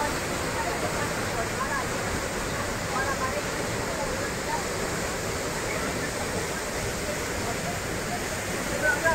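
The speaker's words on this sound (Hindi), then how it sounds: "यहाँ पे काफी प्रेशर में जो है पानी ऊपर से" Water plunges under heavy pressure at Bhatta Falls near Mussoorie, a steady, loud, continuous roar of rushing falls that fills the whole stretch without a break.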